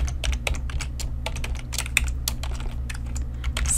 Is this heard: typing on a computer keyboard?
yes